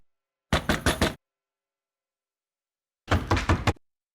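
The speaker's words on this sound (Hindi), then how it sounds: "कोई खटखटा रहा है।" Two separate bursts of rapid knocking on a door, each about four quick raps, separated by a couple of seconds of silence.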